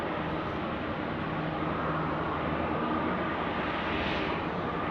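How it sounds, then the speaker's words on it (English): Steady, continuous roar of a Qantas jet on its takeoff run at Sydney Airport at night, a broad rumbling wash that holds loud and even throughout with no voices. "Qantas 493, runway 16 right, cleared for takeoff"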